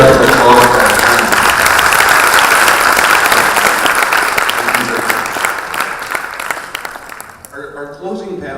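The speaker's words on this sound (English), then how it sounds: "How about a round of applause?" A conference audience at a health-workforce panel claps in a sustained round of applause that gradually thins and fades, after which a voice begins speaking over the quieter room.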